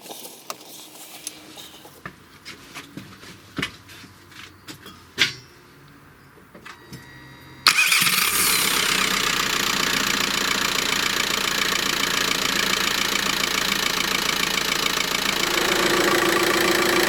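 A Seat Ibiza TDI diesel with a turbo problem sits quiet for several seconds with a few small clicks and knocks, then starts with a sudden burst and settles into a loud, steady idle clatter for the rest of the span.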